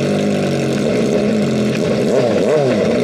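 A brand-new Kawasaki ZX4RR motorcycle revs with no exhaust pipe fitted, a loud raw engine whine holding steady and then climbing and falling in two quick rev sweeps near the end.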